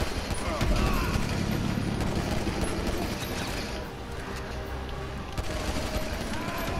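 Dense gunfire rattles in a GTA V Online Survival match on PS4, a busy, continuous barrage of shots and bursts that fills the mix, with people talking over the chaos.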